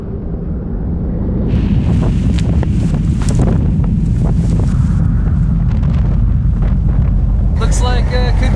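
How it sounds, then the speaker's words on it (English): Strong katabatic wind blasts across the Antarctic mountains in a constant loud roar that buffets the microphone, with snow in the air and voices talking faintly underneath. "Snow, wind, and Katabatic mayhem."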